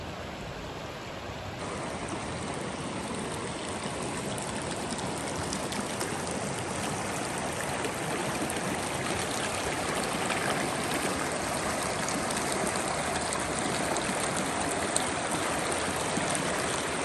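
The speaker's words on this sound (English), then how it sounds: "Just been strolling by this stream right now." A mountain stream on the John Muir Trail in the Sierra Nevada rushes steadily close by, a continuous broadband wash of flowing water over rocks holding an even level for the whole stretch with no talk.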